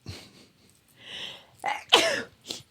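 A single sharp sneeze bursts out near the microphone after a short breathy intake, followed by a brief trailing sound.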